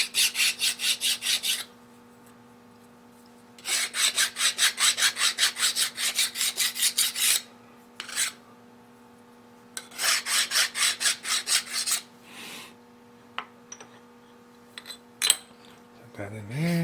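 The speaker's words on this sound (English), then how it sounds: "Okay, I'll quick give that a deburr." Short bursts of rhythmic rasping as a hand file deburrs a small metal part for a home-built lathe, three long runs of quick strokes separated by pauses, with a steady hum beneath and a few light clinks near the end.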